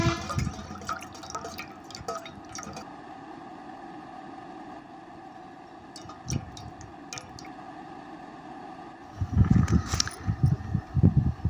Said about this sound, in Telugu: అలా వేడి చేసుకునేటప్పుడు కూడా ఇలానే తిప్పుతూ ఉండాలి